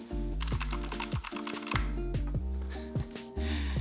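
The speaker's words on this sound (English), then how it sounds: "me and this little keyboard here are gonna go back to typing" Rapid typing on a Keychron K4 V2 mechanical keyboard, a steady run of close, crisp key clacks with an uneven rhythm, heard alone without talk.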